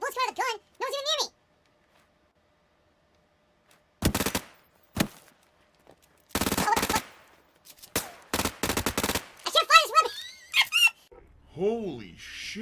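Bursts of rapid automatic gunfire from a shooting video game, several loud sharp volleys separated by pauses, with a high-pitched excited voice talking before and after.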